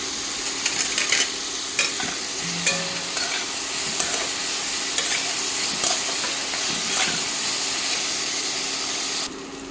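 Vegetables seasoned with turmeric and salt sizzle steadily in a hot pan, close and loud, while a spatula stirs them with scattered scraping taps; no talking.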